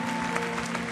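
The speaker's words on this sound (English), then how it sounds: "I want to really give a round of applause to our volunteers." A church congregation applauds its volunteers in a brief, dense burst of clapping that fills the room, with a faint tonal hum underneath.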